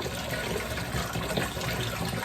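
Warm water runs steadily from a kitchen tap into a container to mix hummingbird feeder nectar, a continuous close rushing stream with no talking.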